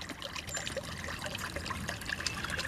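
Water bubbles and trickles steadily in a garden bird bath, a faint continuous splashing murmur with no voices over it.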